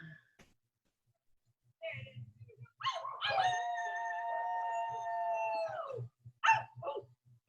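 Dogs howl in a long, sustained, clearly pitched wail lasting several seconds, framed by softer yelps and short whimpering calls before and after, moderately close but fairly quiet overall.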